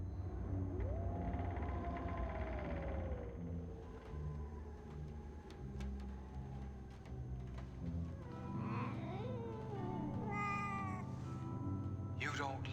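In The 11th Hour video game, a cat gives drawn-out meows and a wailing caterwaul over a low rumbling background, with speech nearby.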